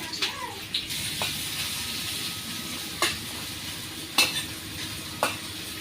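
Sliced onions and green chilies fry in a pan in a village kitchen, a soft steady sizzle punctuated by a few distinct spatula scrapes and taps, fairly quiet and close.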